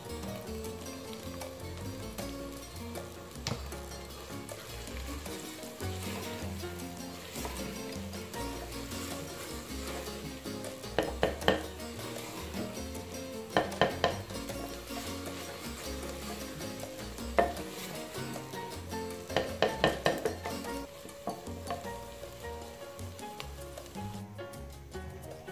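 Cauliflower curry (gobhi salan) being stirred in a cooking pot, with steady scraping and a soft sizzle running throughout and a few sharper clinks of the spoon against the pot near the middle and end.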